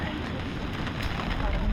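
Heavy rain pours down at a campsite in Subic, Zambales, making a dense, continuous hiss and roar that builds slightly toward the end.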